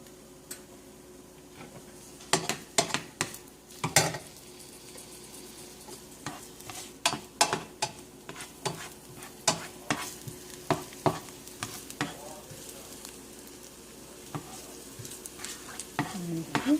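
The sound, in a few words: garlic and onions frying in cooking oil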